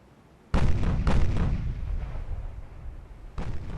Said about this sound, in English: 18 secondaries are opening up on the destroyer